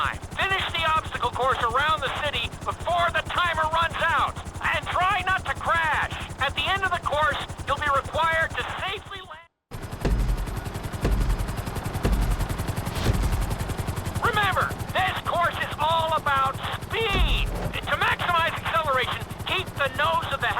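A helicopter races against the timer through a city obstacle course in GTA V flight school. A steady rotor chop and engine drone sit under talk, broken by a short dropout midway.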